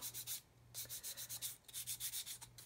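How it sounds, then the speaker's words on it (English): A sanding stick rubs a plastic scale model part in short bursts of dry, scratchy rubbing, quick back-and-forth strokes, close and fairly quiet, with brief pauses between sets. "So what I'm going to do with my sanding stick, I'm just going to take the top off"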